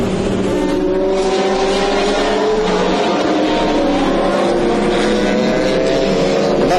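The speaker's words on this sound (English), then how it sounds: "On board now with Johnny Herbert coming in the Maserati" Onboard a Maserati GT race car entering the pits at Oschersleben in the 2004 FIA GT Championship, the engine roars loud and close with a constant high whine and slight pitch variations.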